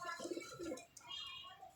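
Pigeon cooing in short, soft, low throaty bursts, close by, with faint background noise; one of five flying pigeons being handled.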